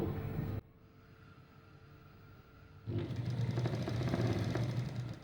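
A sewing machine stitches a chudidar top. A steady mechanical whir starts briefly, drops to a quieter hum, then resumes louder and continuous for the remaining seconds, close up with no talking.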